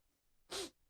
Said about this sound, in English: That's a big sneeze.